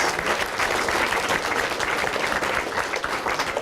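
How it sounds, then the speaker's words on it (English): Steady, full applause from an event audience for three contestants, dense clapping close and loud with no voices. "A round of applause for all 3 contestants."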